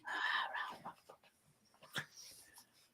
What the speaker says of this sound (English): Your little friend wants to say hello. Hello there, white dog.